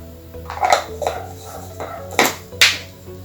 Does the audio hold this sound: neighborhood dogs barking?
yes